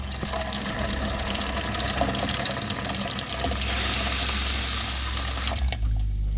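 Water rushing steadily into the tank of a 2009 Travel Lite 890 SBRX truck camper, a loud continuous filling roar that cuts off abruptly near the end.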